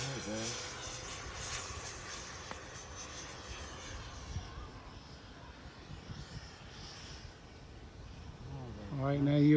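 An E-flite F-16 radio-controlled model jet flying fast overhead, its electric ducted fan giving a steady whooshing whine that rises and fades with passes, heard from a distance outdoors with voices talking over it and a louder surge at the end.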